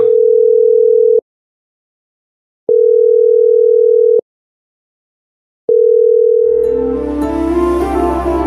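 A phone call tone plays as three long, steady beeps separated by silent pauses, loud and clean, before music begins at the end.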